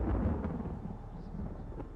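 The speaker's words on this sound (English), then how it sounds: "forming a thunderstorm." Thunder from a thunderstorm, a deep rolling rumble that starts strong and slowly fades over two seconds, heard alone.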